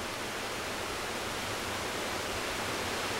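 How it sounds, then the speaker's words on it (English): A waterfall in the Swiss Alps near Grisalp gives a steady, even rushing hiss of falling water, continuous and moderately distant. "Waterfalls everywhere."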